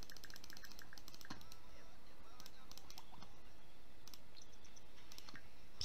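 Quiet, irregular clicks and taps from a computer mouse and keyboard sound up close while someone plays The Sims 4, with faint room noise underneath.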